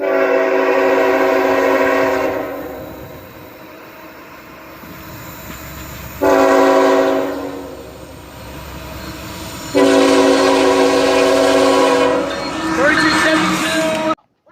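A GE Evolution Series (GEVO) locomotive sounds its Nathan K5HL horn in three loud, sustained blasts: a long opening call, a shorter middle note and a final extended blast, with a steady rumble of the passing train between them.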